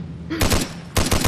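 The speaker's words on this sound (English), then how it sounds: "I'll use the minigun" Minigun in a video game firing two rapid bursts of loud, dense shots, each about half a second long, separated by a short gap, with a brief spin-up whine before the first burst.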